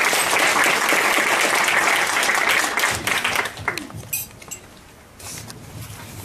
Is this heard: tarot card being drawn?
no